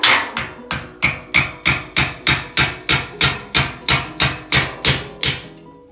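Regular hammer blows during home renovation, about fourteen sharp, evenly spaced strikes in quick succession, close and loud with no talking.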